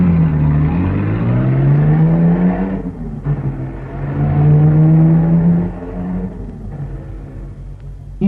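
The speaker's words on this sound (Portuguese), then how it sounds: "metem-se no carro e desaparecem com um barulho de escape livre capaz de acordar os mortos" A car drives off with a loud open exhaust outside a busy tea house, its engine rumbling and rising in pitch through two revving pulls, loud and close, then fading slightly.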